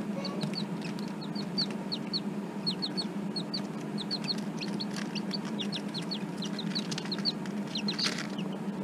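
Young chicks being fed mealworms give rapid, high-pitched peeping chirps in quick clusters, close by, over a steady low background hum.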